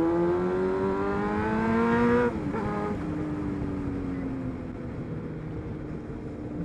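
Yamaha MT Tracer 900 motorcycle engine revving on a ride, rising harmonic whine for about two seconds, then a gear change and a steady, lower drone with wind rush, fairly loud and without talk.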